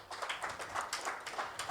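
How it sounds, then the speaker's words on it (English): A conference audience at an awards ceremony in Mumbai claps for an honoree, with thin, fairly soft rhythmic clapping in uneven bursts and no voices over it. "I think a big round of applause for Dr."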